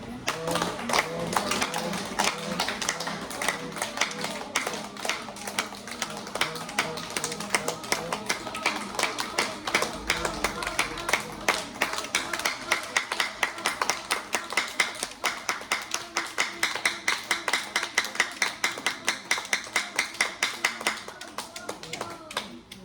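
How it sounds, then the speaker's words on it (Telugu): Rhythmic hand claps repeat steadily through a home yoga session, a dense pattern of sharp taps with an instructor's voice talking over them and light background music throughout. "రెండు చేతులు చూడండి పైన పెట్టి క్లాప్"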